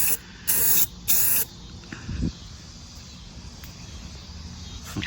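A spray paint can coating vintage mass-produced figurines, two short loud close bursts of hissing spray followed by a low, faint background.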